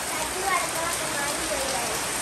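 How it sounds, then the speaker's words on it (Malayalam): Heavy rain pours down steadily over an outdoor cooking area, a dense, even hiss of drops close by with no break throughout. "നല്ല മഴ."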